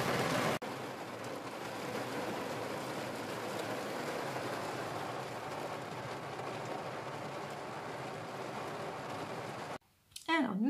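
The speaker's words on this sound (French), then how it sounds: "Il pleut beaucoup, beaucoup, beaucoup depuis après-midi." Heavy rain falls steadily as a dense, continuous hiss for about ten seconds, constant in loudness and fairly close, ending abruptly with a short gap near the end.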